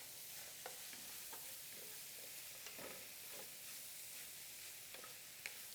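Shrimp sauté in a pan for shrimp and grits, a faint steady hiss of frying with soft scattered stirring taps and scrapes, close and quiet with no voices.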